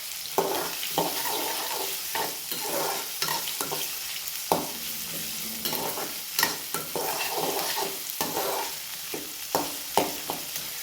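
Onions sautéing in a pan give a steady close sizzle, broken every second or so by clacks and scrapes of a stirring spoon over about ten seconds, with no talking.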